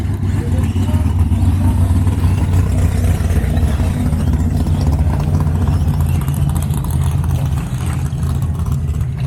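RC truggy race cars at the 2020 BEGO Racing final run around the track, with a steady, loud, continuous engine whine and buzz that holds throughout.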